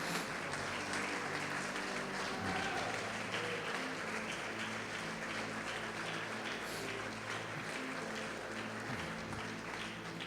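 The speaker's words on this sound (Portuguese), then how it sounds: "Pode aplaudir" Church congregation applauding during a service, steady dense clapping from a large crowd throughout, fairly distant and even in level.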